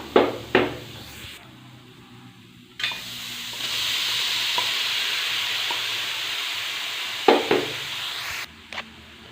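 Ground amla (gooseberry) paste fries in a heated pan: sharp spatula scrapes and knocks come at the start and end, while a steady sizzling hiss fills the middle stretch.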